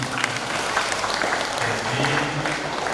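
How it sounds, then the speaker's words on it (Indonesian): A school assembly crowd of sixth-graders and their fathers claps together, a dense, steady patter of many hands throughout, with a voice faintly heard beneath. "Tepuk tangan dulu ayah muda semuanya."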